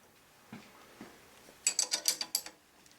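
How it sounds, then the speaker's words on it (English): A nut on a hydraulic pull wagon kit is tightened with a wrench, giving a quick run of crisp ratcheting clicks close up after a couple of soft knocks, quiet overall. "Now I'm tightening this with just the nut right now."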